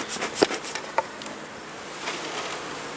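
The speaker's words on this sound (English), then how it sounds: "Wow, good number of bees." Honeybees from a freshly caught swarm buzzing around a hive box: a dense, steady hum from many bees close by, with a few brief louder passes near the start.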